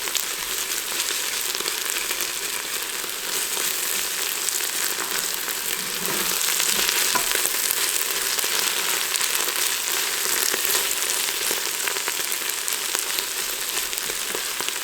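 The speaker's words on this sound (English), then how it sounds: "And I'll let that garlic cook a little bit." Garlic cooking in a pot with onions for French onion soup, a constant dense crackling sizzle that swells slightly midway and carries on steadily with no voices.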